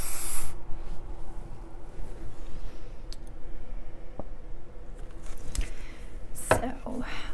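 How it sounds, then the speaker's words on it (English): A can of WD-40 sprays onto a sink strainer in a short hissing burst at the start and another near the end, with light clicks and clatter between them. "I'm going to spray that sink strainer with my WD-40 first, though, because it makes cleanup easier."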